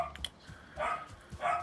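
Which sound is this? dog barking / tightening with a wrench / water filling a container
dog barking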